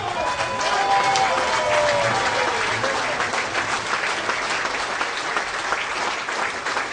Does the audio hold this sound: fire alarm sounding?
no